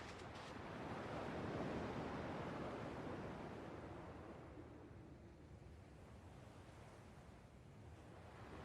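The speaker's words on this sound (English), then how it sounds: "At least the waves sound the same." Ocean waves in Kingdom Hearts 2 Final Mix roll as a steady broadband wash of surf, swelling slightly early and then settling into a continuous soft hiss, with no voices over it.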